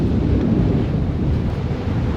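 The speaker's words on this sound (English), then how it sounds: "we got about 30 knots of wind blowing" Strong wind of about 30 knots buffeting a boat during a storm, a heavy low rumbling roar with gusty microphone buffeting, continuous and loud with no voices.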